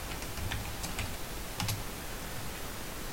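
A password is typed on a computer keyboard, a brief run of light, irregular key clicks in the first two seconds against a steady background hiss, then only the hiss remains.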